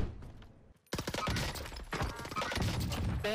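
Missiles fired in a multiplayer shooter with an automaton weapon: after a near-silent moment, a sudden dense barrage of rapid launches and blasts, loud and continuous.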